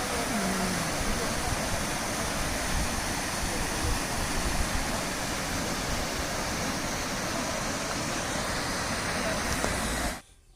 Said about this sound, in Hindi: ये डेविस फॉल्स, देवी का झरना, नेपाल के कास्की जिले के पोखरा में स्थित यह एक झरना है।